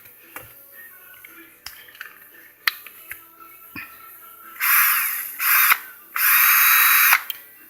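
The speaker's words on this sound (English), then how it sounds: "18-volt lithium drill" An 18-volt lithium cordless drill whirs in three bursts, short ones then a longer run, after a stretch of quiet clicks and taps, loud and close.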